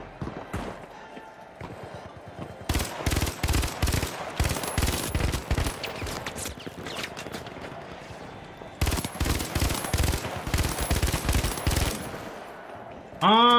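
FAMAS and revolver gunfire in The Finals, with long rapid bursts of close, loud shots in two main volleys separated by a short lull, plus scattered single shots and footsteps, ending on a bright chiming effect.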